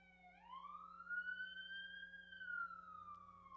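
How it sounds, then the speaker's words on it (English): An emergency vehicle siren wails in a single long rising-and-falling sweep outside at night, heard at moderate distance with a steady low hum beneath it. "The sirens are clear."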